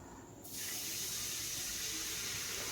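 Water poured from a tap into a spice mix for a paneer and potato curry, a steady rushing stream starting abruptly after a quiet moment and running on evenly.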